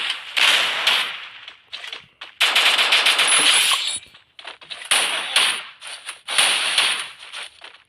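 Video game gunfire rattles in rapid automatic bursts, loud and close, with short gaps between volleys and metallic clangs mixed in.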